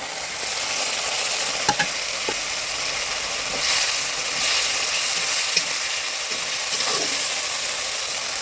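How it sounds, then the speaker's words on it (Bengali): Fried potatoes and sugar tossed into a hot pan, giving a loud continuous sizzle with occasional spatula scrapes and clicks against the pan. "চিনি লাগবে, ভেজে রাখা আলু দিয়ে দিলাম।"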